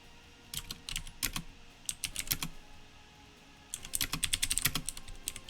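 Rapid clacking on a computer keyboard, close and fairly loud, in two bursts of typing separated by a short pause, with no voices.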